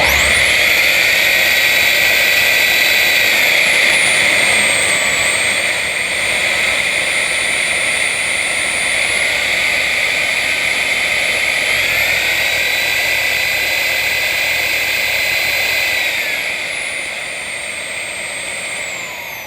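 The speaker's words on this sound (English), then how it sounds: "it'll be interesting to see how powerful the Eufy gets as we increase the suction" A Eufy E20 robotic vacuum cleaner runs with a loud, steady high-pitched whine as its suction is stepped up, the pitch climbing and settling in stages over a continuous drone with no talk.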